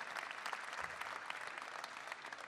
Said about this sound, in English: Please give a big round of applause to our panellists.